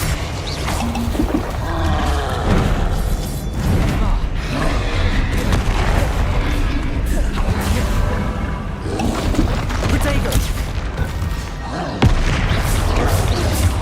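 Confringo spell explosions burst again and again in the game Hogwarts Legacy, loud booming blasts piling up in a dense, continuous battle din with a voice calling out over the chaos.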